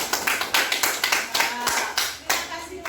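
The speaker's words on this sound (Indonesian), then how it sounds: "Beri tepuk tangan dulu untuk Wawan." Classroom clapping from a group of pupils, a quick run of sharp, fairly close hand claps in an uneven rhythm lasting about three seconds, with faint children's voices underneath.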